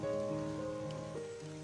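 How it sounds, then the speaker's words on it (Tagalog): Rain falls over a farm plot of eggplant seedlings, a steady soft patter on surfaces with a faint low hum beneath. "Maulan na naman, sana lumakas to."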